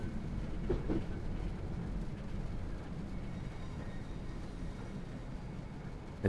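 A Class 465 Networker electric train on the Southeastern High Speed line in Train Sim World 2 runs with a steady low rumble and soft rhythmic clatter, continuous and even throughout.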